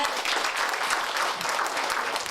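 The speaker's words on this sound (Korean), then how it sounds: "박수로 모시겠습니다." Sustained applause from an audience at a high school debate competition final, dense and even clapping throughout with no one speaking.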